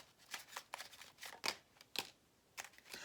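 Tarot cards are handled and shuffled in a quiet room, a series of soft, close riffling flicks and snaps in an uneven rhythm, with no talk.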